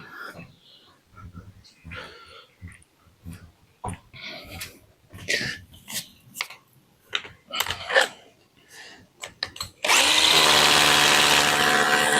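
A power drill bores holes into wood, starting with a loud, steady whine of the motor near the end after a stretch of scattered knocks and handling sounds, with a person talking earlier.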